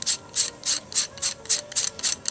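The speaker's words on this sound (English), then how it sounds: "I will unscrew the top," Lens cover of a 4500-lumen HID light being unscrewed, a steady run of about nine evenly spaced ratcheting clicks, close and crisp, with no voices.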